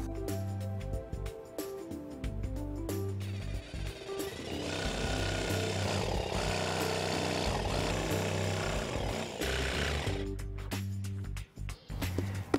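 A power tool cutting a decorative panel for a bathroom vanity mirror frame, a loud steady whine running for several seconds between shorter bursts of tool noise.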